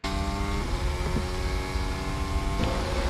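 Lando Norris's Formula 1 car overtaking the safety car, a steady, loud onboard engine drone with layered harmonic whine held throughout, shifting pitch slightly near the end.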